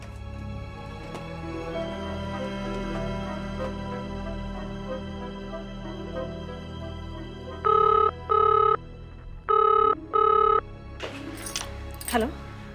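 A telephone rings in two distinct double bursts near the end of an indoor scene from a television serial, clear and close over a low, steady background hum.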